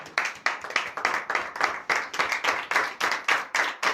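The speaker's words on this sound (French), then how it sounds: "Veuillez vous asseoir et donner l'acclamation à Jésus." Rhythmic congregation clapping at a church morning prayer service, many hands striking in a steady beat, loud and close, with no talking over it.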